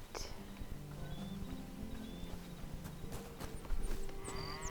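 Cows moo low and drawn-out in the video game Hytale against a steady background hum, with light footsteps and faint clip-clop sounds mixed in.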